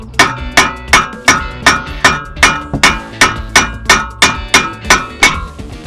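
Hammer blows ring out on a seized brake disc of a VW Touran, about fifteen loud, sharp metallic strikes in a steady, even rhythm, close up and with no talking.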